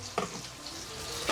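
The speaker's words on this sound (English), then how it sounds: "So I'm just going to take this rice and just pour it in." Dry rice poured into a pot of boiling water on a stovetop, a short rushing hiss at the start and another brief burst near the end over a steady low simmer.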